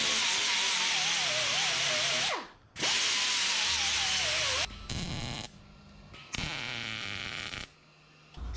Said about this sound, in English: we're gonna drill some holes down here for some spot welds.